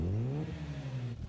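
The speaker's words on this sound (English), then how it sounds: "Oh, you gotta love that freaking rotary engine!" The Mazda RX-7 rotary engine revs hard in an anime race against an AE86, a loud, close buzzing whine that rises and then holds before dropping away toward the end.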